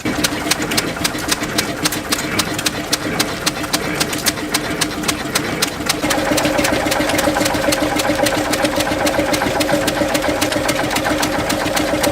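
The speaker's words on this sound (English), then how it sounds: "There are a lot of stationary engines at Newby, so let's take a walk through them." Several stationary engines run steadily together at a tractor show, a rapid mechanical chugging and ticking with a steady hum that grows fuller and busier partway through.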